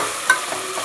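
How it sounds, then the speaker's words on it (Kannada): Garlic paste frying in a pan while being stirred for tomato bath, a short close burst of sizzle with a single scrape of the spatula, no voices. "ಇದು ಸ್ವಲ್ಪ ಫ್ರೈ ಮಾಡ್ಕೊಳ್ಳೋಣ."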